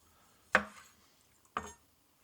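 A knife chops through tomatoes on a cutting board, cutting them in half: two sharp, close chopping thuds about a second apart, with no talking.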